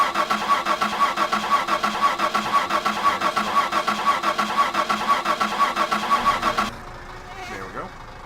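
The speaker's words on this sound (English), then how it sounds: "We'll turn on the ignition." Van engine in the driving game My Summer Car cranking with a rapid rhythmic starter chug for several seconds before catching and dropping to a quieter idle, with a voice briefly speaking near the end.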